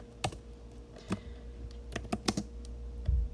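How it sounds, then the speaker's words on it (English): Typing a sentence on an iPad on-screen keyboard gives a string of light, sharp taps at an uneven pace, some in quick pairs, close and fairly quiet against a faint steady hum. "So now I'm going to type the same sentence."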